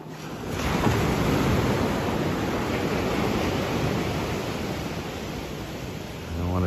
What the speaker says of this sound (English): I don't want to be sucked in by the power of these gigantic waves.